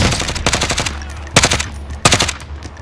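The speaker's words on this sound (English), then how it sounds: "They're firing behind!" Automatic gunfire in Call of Duty: Modern Warfare, a rapid burst of shots followed by two more loud bursts, close and punchy against a low background rumble.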